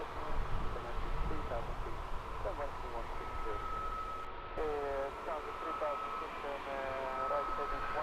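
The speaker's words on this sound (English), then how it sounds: "Next EasyJet departure, flight 2309, off to Gran Canaria" An EasyJet jet airliner departs from Luton Airport, giving a continuous jet roar with a steady high whine and shifting engine tones, and a person speaks over the noise.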